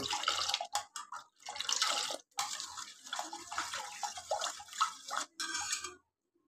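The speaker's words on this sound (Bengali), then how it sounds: "এখন এটা আমি ছেঁকে বসিয়ে দিব।" Sweet yogurt (mishti doi) mixture poured through a strainer, a close, steady liquid splashing and trickling in several bursts with short pauses, then stopping.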